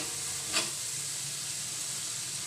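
Masala for a fish curry fries in oil with a steady, close sizzle, and one brief hissing flare rises as tomatoes go into the pan.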